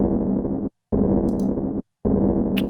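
A soloed tambourine sample in Ableton Simpler, sounding low and muffled, repeats in three sustained bursts with brief silent gaps and faint high jingle flickers between them.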